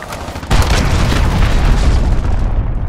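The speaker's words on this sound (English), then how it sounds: "Enemy cruise missile. Take cover." Cruise missile strike in the video game Call of Duty: Modern Warfare: a sudden loud boom bursts in after a brief lead-in, then a dense rumbling blast decays over the next two seconds.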